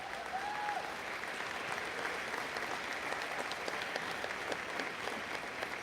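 A school prize day audience applauds steadily and evenly, a dense patter of clapping hands filling a hall at moderate distance with no break.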